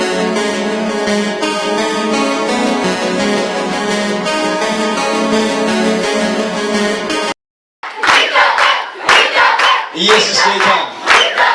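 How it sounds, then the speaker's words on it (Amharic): A church congregation at a second-anniversary celebration erupts in loud cheering, shouting, whistling and ululation with music, breaking off briefly before bursting out again in raucous waves. "ፍጨት፣ ጩኸት፣ እልልታ"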